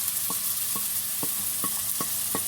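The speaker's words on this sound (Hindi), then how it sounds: "जैसे ही ऑयल गर्म होगा हम 2 अदद मीडियम साइज़ के बारीक चॉप किए हुए प्याज डालेंगे" Finely chopped medium onions frying in half a cup of hot oil in a kadai, giving a constant hiss with light, regular taps of a stirring spoon every half second or so.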